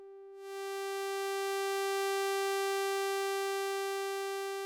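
A single sustained note from a Hydrasynth synthesizer with a resonance mutant applied, a bright buzzy tone that swells in after a brief start and holds steady, alone and moderately loud.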